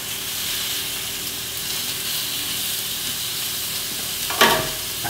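Fillet steak sizzles steadily in a hot pan just after being flipped, cooking medium to well: a constant close frying hiss with a brief louder crackle burst near the end, no talking.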